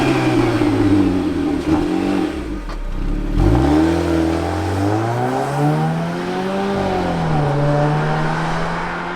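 A 2017 Jeep Compass Trailhawk with a 9-speed automatic accelerates from inside the cabin, its engine note rising in steady sweeps and dipping briefly at each upshift, loud and continuous with no talking.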